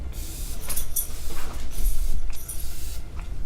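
Several short, close hissing bursts of a fine mist of Kat Von D Lock-It setting spray come in quick succession, with brief pauses between them.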